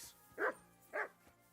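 A dog in the video game Kingdom Come Deliverance gives two short, sharp barks about half a second apart, moderately close with a quiet background.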